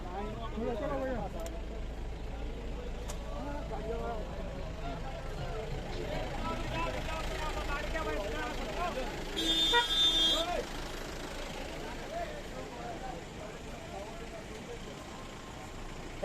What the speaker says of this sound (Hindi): रास्ते में ट्रैफिक इतना ज़्यादा, गाड़ियाँ तीतर बीतर जैसे तैसे लोग लगा देते हैं